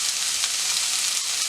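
Chopped knol khol tipped in with softened onions in a hot pan gives a steady, even sizzle of frying throughout, fairly close and without talk.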